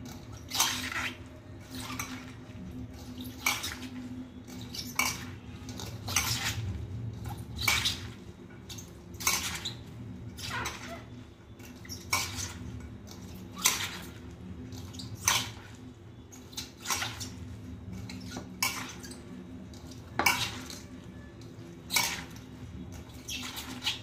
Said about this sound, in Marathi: तुम्ही इथे बघू शकता कारली चुरत असताना ह्यातलं पाणी पडतंय।